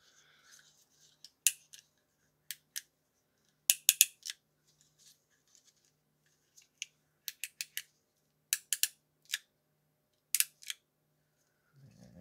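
Sharp, dry clicks in small clusters, a city-bike gear shifter ratcheting through gears, close up with quiet pauses between bursts.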